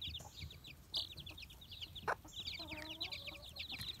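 A chick peeps in rapid, high, thin chirps almost continuously, close but quiet, with a few louder cheeps and some soft clucking from other fowl nearby.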